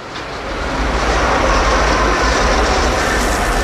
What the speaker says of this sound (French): cette énorme machine lime les rails pour limiter les frottements avec les roues métalliques des trains